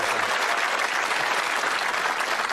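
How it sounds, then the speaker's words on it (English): A television game show studio audience gives a dense, steady burst of applause and cheering that stays loud throughout. "give him a little cheer"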